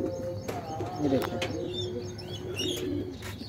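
Pigeons cooing softly in a loft, the low repeated coos mixed with faint chirps and a steady background hum, while someone talks over them.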